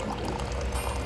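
Hot water is poured close up to make coffee, a steady continuous splashing stream with no speech.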